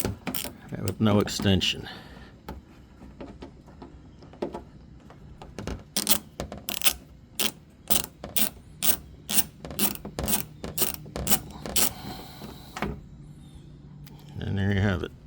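A ratchet turning a 7mm deep 6-point socket on a 1/4-inch drive, working on a 2014 Camaro backup camera, gives a steady run of sharp, evenly spaced clicks up close, with a brief voice before and after.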